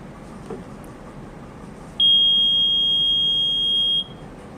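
Electronic voting machine during a mock poll for local panchayat elections: one loud, steady high-pitched beep held for about two seconds over a low background hiss.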